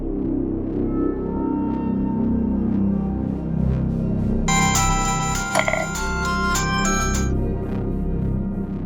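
A phone rings for an incoming call, a bright repeating electronic tone that starts partway through and sounds for a few seconds over a steady low background hum, with no talking.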